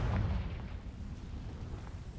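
Explosive fire blast from the Confringo spell in a Harry Potter video game, a dense low rumbling boom that rolls on steadily for a couple of seconds without any talk.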